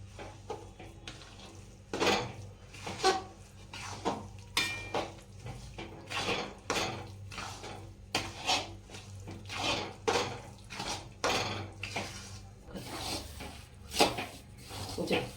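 A spoon stirring and scraping adadiya pak, a Gujarati sweet of urad flour with cardamom, poppy seeds and nutmeg, in a metal pan, with rhythmic close knocks and scrapes repeating steadily and fairly quietly.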